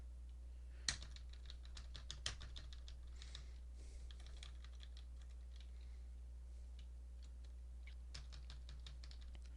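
Rapid keyboard typing while gaming: a steady patter of close, crisp key clicks runs throughout, with a few sharper louder strikes near the start over a constant low electrical hum, and no voices.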